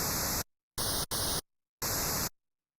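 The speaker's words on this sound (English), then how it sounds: "White noise." White noise waveform played on a Waldorf Quantum synthesizer, bright steady hiss in three short bursts, the middle one split in two, with silent gaps between.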